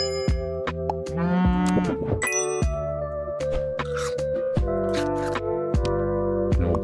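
A cow in the video game Super Auto Pets gives a loud, cartoonish moo over bouncy in-game music with chiming dings and shuffling effects, all close and continuous with no talking.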